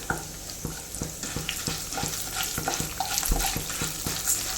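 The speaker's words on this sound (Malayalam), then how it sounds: "ഇത്തിരി കടുകൂടെ ഇട്ട് കൊടുക്കാം കൂടെ തന്നെ ചെറിയ ജീരകവും കൂടി ഇട്ട് കൊടുക്കാം ഇതൊന്ന് ഫ്രൈ ആയി വരണം" Mustard seeds and cumin crackle in hot oil for a red spinach curry, a steady close sizzle punctuated by regular sharp pops and spatters, with no voices.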